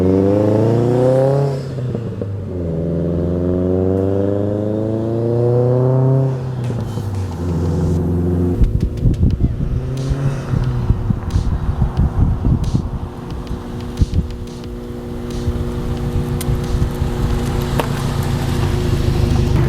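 A 2008 Subaru STI with a six-piston Brembo big brake kit revs up in rising and falling sweeps while accelerating and braking hard, then settles into a loud, rough clattering rumble close by, with no talking.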